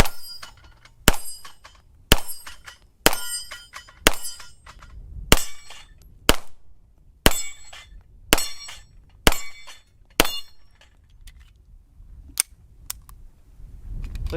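A 9mm double-stack pistol with a 17-round magazine fires about a dozen sharp, loud shots in a steady rhythm roughly one second apart, each with a ringing tail, and there is no talk.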